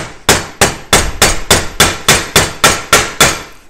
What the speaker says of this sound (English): I'm going to give this a few little whacks.